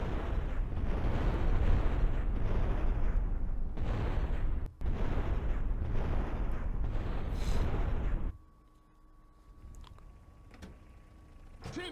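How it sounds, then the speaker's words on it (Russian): Rolling, booming explosions from GTA San Andreas Definitive Edition play as a loud, continuous roar for about eight seconds, broken by one brief gap, then drop to a quiet low rumble with faint tones. "Все взрывается, блин."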